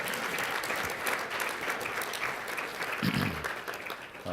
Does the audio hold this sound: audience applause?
yes